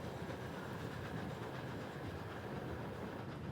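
A passenger train bound for Tashkent, Uzbekistan, skirting Turkmenistan near the Amu Darya, rumbles along in a steady, even roar heard from inside the carriage, with faint rhythmic clatter of the wheels.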